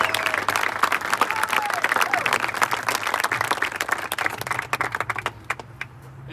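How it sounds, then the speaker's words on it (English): Applause at a tennis alumni celebration greets a volunteer coach: many hands clapping in a lively, crisp stream that thins out and grows sparser near the end, with a faint hum beneath. "Please have some applause for Craig."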